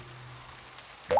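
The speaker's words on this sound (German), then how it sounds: "Es tropft auf den Boden." A single cartoon-style drip of rain lands on the floor near the end, a short bright plop rising in pitch after a quiet, steady background hum.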